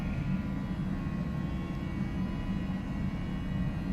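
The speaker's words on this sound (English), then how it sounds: "I like the sound of jet engines in the morning." Jet engines of a PMDG 737NGX airliner in a flight simulator game produce a steady, low, broadband roar with a dull rumble, continuous and unchanging throughout, with no voices.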